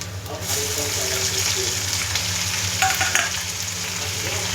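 Ginger-garlic paste sizzles with meat frying in a pan, a close, steady hiss with brief stirring scrapes and a low hum underneath.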